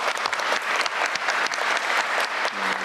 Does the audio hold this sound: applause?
yes